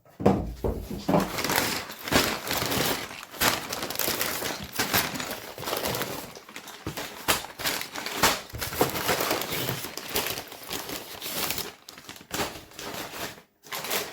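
A LEGO City Explorers' Arctic Polar Express train set box is opened, with close cardboard tearing, rustling and crinkling, bursts of handling noise and brief pauses, and no talking.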